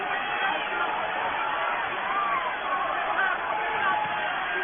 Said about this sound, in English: I believe I'm hearing Silva chant here in Melbourne